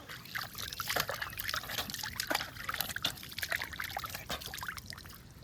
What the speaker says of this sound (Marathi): मस्त पाय धुवून घेत आहे